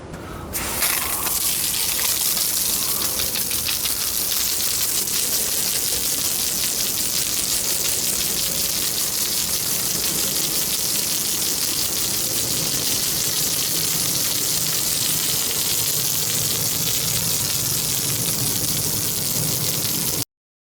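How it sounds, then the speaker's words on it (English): A garden hose rinses a patio that has been cleaned without chemicals or power washing, a steady loud gushing spray of water running continuously and alone for about twenty seconds. "now all I'm going to do is rinse this patio off again with the hose"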